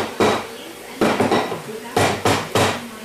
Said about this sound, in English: Just a rubber mallet will usually loosen them enough to get them out.